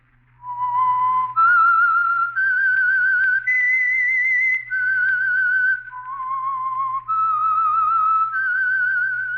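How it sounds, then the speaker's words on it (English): A lone whistled melody, the theme tune of the 1947 radio drama The Whistler, rising and falling in clear, sustained notes over a low steady hum. "That whistle is your signal for the Signal Oil Program, The Whistler."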